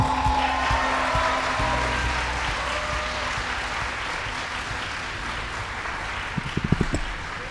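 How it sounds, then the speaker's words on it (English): A studio audience applauds to welcome voice actor Steve Blum onstage, a broad steady wash of clapping with a few louder claps near the end. "please give a big round of applause to Mr. Steve Blum"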